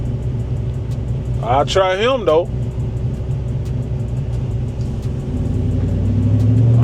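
A car pulls away on a hot day, a low engine rumble that grows louder and heavier toward the end, while someone speaks briefly over it.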